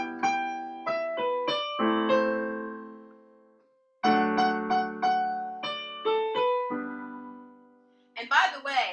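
Piano plays a song's chords at normal tempo, with ringing chords and rippled melody notes in two phrases separated by a brief pause, before a voice begins talking at the end.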